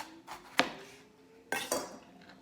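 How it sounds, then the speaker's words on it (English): A kitchen knife slices through the bottom of a bell pepper on a cutting board, giving two sharp, close knocks of the blade against the board about a second apart, along with faint handling noise in between. "Turn the pepper around, and you don't have to go as deep, but just cut the bottom off the pepper."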